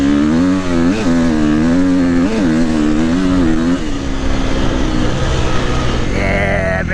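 KTM 350XCF four-stroke dirt bike engine screaming at full throttle, climbing and over-revving in repeated surges before dropping and rising again, loud and close with wind and ride noise throughout.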